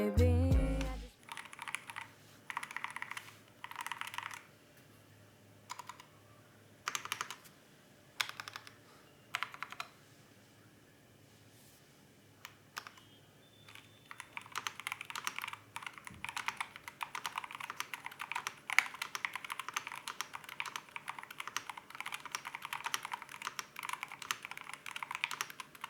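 Typing on a MENEL × AKKO budget mechanical keyboard, bursts of close clacking keystrokes in irregular runs, sparse and separated at first, then turning into dense, fast continuous typing.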